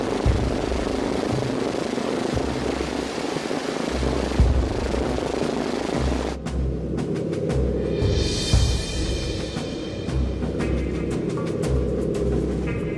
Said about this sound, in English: It's his first ride in an American bomber.